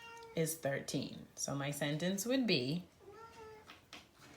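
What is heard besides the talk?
cat meowing to go outside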